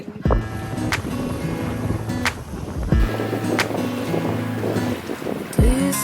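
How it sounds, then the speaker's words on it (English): A sailboat moving under sail in 15 knots of wind, with steady wind noise buffeting the microphone, water rushing along the hull and a few sharp knocks and creaks from the rigging. "We're sailing along. It's a beautiful afternoon."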